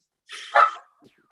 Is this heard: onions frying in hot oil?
no